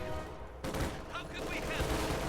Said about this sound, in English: Another anti-infantry strafe right there, pinning down these conscripts.